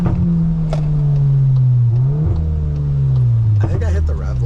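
Modified 2022 Volkswagen Golf R engine with a steady, loud drone that surges and shifts pitch as it revs on a downshift, heard from inside the car with a voice speaking over it.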